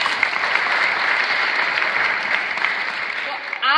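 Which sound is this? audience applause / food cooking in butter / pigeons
audience applause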